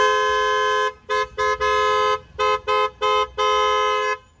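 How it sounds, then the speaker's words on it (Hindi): The stock horn of a Maruti Swift honking: a loud, near, buzzy tone, first held for about a second, then a rapid series of short toots and a final longer blast. "पहले हॉर्न सुन लो अभी और बजाओ।"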